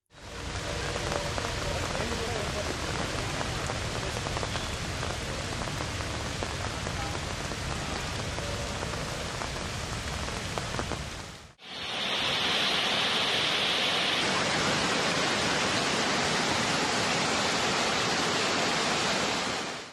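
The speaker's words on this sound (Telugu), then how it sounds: "రోడ్లపై వరద ప్రవహిస్తోంది" Heavy rain in Hyderabad with floodwater streaming along roads, a loud, dense roar of pouring water that breaks off briefly midway and then resumes just as strongly.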